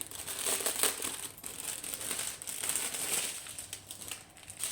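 Plastic packets of diamond painting drills being handled and opened during an Artdot canvas unboxing, soft close crinkling and rustling in uneven bursts throughout, with no voice.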